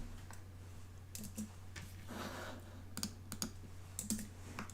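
Keys on a computer keyboard clatter in short irregular bursts of clicks over a steady low hum, moderately close and fairly quiet, with no voices.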